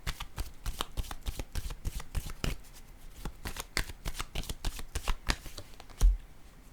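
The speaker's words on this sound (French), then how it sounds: "Je vais déposer une carte pour ici." Tarot cards being handled, shuffled and laid down, producing rapid close papery flicks and slaps with a slightly heavier tap near the end.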